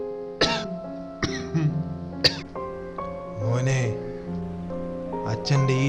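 An old man coughing several times in short harsh bursts, mixed in with voices speaking nearby.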